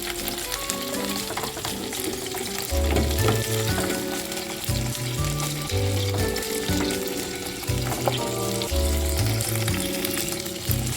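Chopped vegetables for sabudana khichdi frying and being stirred in a pan, a steady close sizzle with clanking and scraping of the spatula running throughout, no voices.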